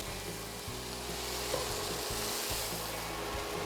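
Hazelnuts, walnuts and raisins are stirred in a hot pan, giving an even, constant sizzle with rhythmic scraping strokes underneath, close and quiet, with no voices.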